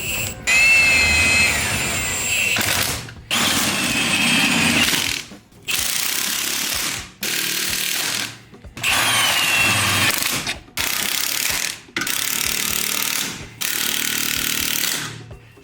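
Power tool cinching down traction bars on a 1965 Mustang, loud rattling bursts repeated about eight times with short gaps between each run.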